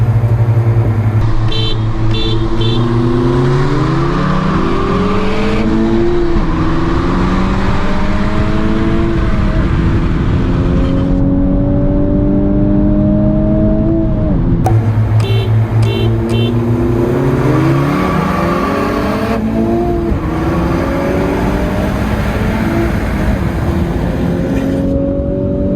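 A 2021 Honda Civic Type R in R mode accelerating hard, its engine note climbing through several gears with distinct shifts and rising pitch, loud and continuous from inside the car.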